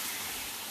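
Sliced yam pieces frying in oil, a steady close hiss and sizzle filling the short moment without any voices.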